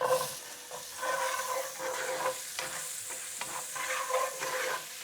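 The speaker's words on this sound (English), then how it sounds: "Next, the onions, and I'm going to give it 6 to 8 minutes until golden." Onions and cumin seeds frying in a pot give a steady, fairly loud sizzle with occasional stirring scrapes, continuous and close, no voices.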